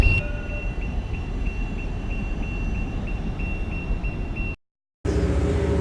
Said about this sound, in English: those noises comes from the light train station, so it's just way there. That means the train is about to depart.